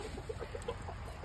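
Broody hens cluck softly in a rapid, rhythmic series of short notes, close by and fairly quiet over a steady background hum.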